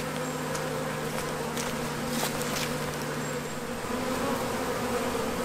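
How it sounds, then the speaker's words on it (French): Honeybees fanning their wings at a hive entrance after being rescued from a tree trunk make a steady, close, dense buzzing drone that holds unbroken throughout, with no voices. "les abeilles battent leur appel. Elles lèvent les fesses, remuent les ailes"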